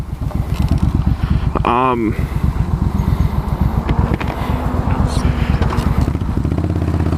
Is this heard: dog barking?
no